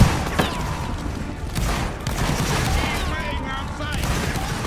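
Volleys of gunfire crackle through a video game battle, sounding as dense, overlapping bursts that run steadily throughout with voices talking over them.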